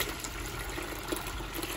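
Water drains from the hose of a Rovsun 13 lb portable washing machine into a bucket, a brief continuous trickling and splashing flow at moderate level.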